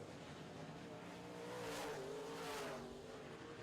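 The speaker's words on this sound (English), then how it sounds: "these modified racers based on pace passing points here tonight as the 2 cars battle out of turn number 4" Modified race cars roar past on an oval track, engines rising to a louder swell midway with a pitch sweep as they pass, then easing back, heard from a distance.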